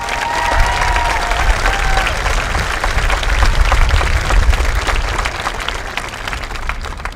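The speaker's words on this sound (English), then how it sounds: "Please join me in a well-deserved round of applause for Ms." Loud, sustained applause from a high school graduation crowd for the salutatorian, dense clapping with some cheering and crowd noise rolling steadily, with a brief whistle-like tone early on.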